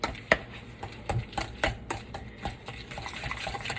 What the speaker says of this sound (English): use my mini whisk, and I'm going to mash up the yolks in with our mayonnaise and mustard mixture